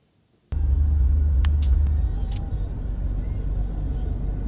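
Steady low engine rumble from a moving car, loud and continuous after an abrupt start, with a few brief clicks and knocks on top.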